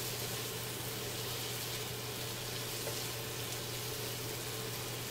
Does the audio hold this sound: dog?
no